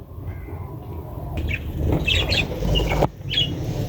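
Soft pigeon squawks and rustling close up as it sits on eggs, with a few short calls and a sharp knock near the end.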